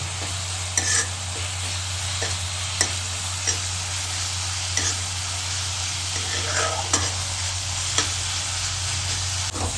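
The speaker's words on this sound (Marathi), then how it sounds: "मिरची चांगल्या प्रकारे परतून घ्यायची आहे" Green chillies fry and sizzle in hot oil for a cluster bean curry, a steady crackling hiss broken by repeated sharp scraping stirs of a spatula against the pan, with no talking.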